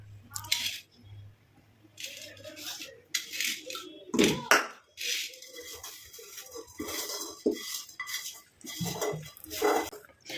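Homemade hair dye is scooped from a pan into a bowl with a metal spoon, making intermittent clinks, scrapes and knocks against the dishes, close by with short pauses between strokes.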